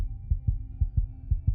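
A heartbeat sound effect from a Japanese horror animation about the Teke Teke legend gives deep, muffled lub-dub thumps. Three paired beats come in a quick, steady rhythm over a low hum, with no talking.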